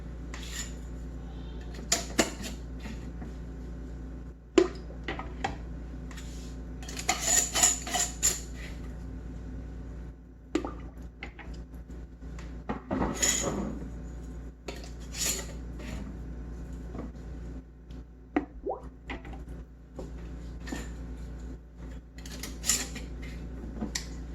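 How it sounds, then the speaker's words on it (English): Glass canning jars with rings clink and knock as they are set down one by one into a canner, giving scattered sharp taps and clatters over a steady low hum. "we're just gonna go finger tight and then set them gently down into the canner"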